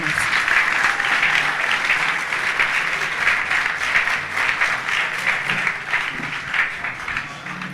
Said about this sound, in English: with a rousing round of applause, shall we invite him to give us his remarks?